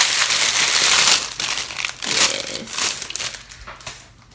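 Bubble gum scented cloud slime is squished by hand close to the mic, giving loud crinkly crackling and crunching bursts that fade toward the end.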